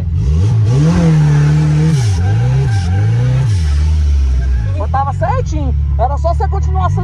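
A car engine revs and accelerates during a drift lesson, a loud, close, rising and falling drone sustained throughout, with people talking over it toward the end.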